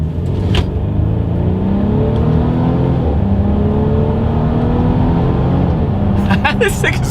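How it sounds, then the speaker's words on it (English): A 2023 Mercedes-Benz GLC 300 Coupe accelerating in sport driving mode, engine note climbing through the gears from inside the cabin, with a person talking over it. "let's see how quickly we can get this thing here up to speed"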